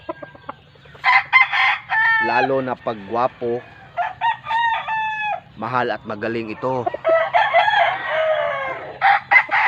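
Several roosters crow in repeated, drawn-out calls, some close and loud, while someone talks over and between them.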